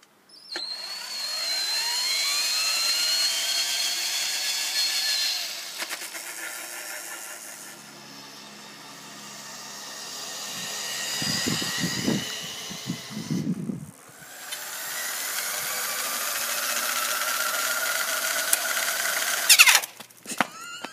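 DIY electric bicycle driven by a cordless power drill as its motor, throttled by the hand brake lever, whining as it spins up and slows in several bursts, with sliding pitch, rattles and thumps in between, no speech.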